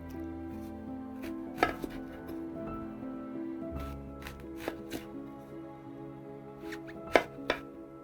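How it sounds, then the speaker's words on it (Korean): An onion is chopped into small pieces on a cutting board while preparing a green vegetable detox soup. The knife hits come close and crisp as a series of irregular taps, alone with no talk. "우선 양파를 작게 썰어 볼게요."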